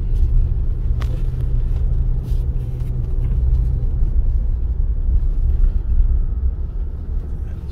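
A 2022 Toyota RAV4 Hybrid pushing through loose beach sand at Oceano Dunes in second gear with traction control off, giving a loud, steady low rumble of engine and road noise that stays constant without a break.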